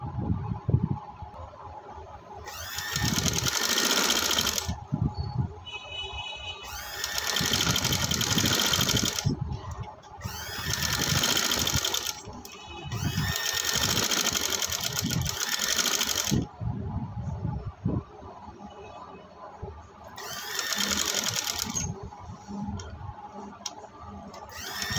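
A sewing machine stitches a sleeve in repeated, loud, close runs of rapid stitching lasting a few seconds each, separated by quieter pauses with faint handling sounds.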